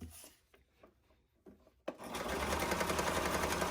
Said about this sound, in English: My machine is pretty heavy duty, so it goes right over the pins